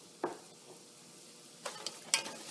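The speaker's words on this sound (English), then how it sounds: "you just throw in your onions and get them cooking" Onions frying in a pan for yellow lentil daal with fenugreek and spinach, a quiet steady sizzle with a few louder stirring scrapes and clatters near the start and toward the end, no talking.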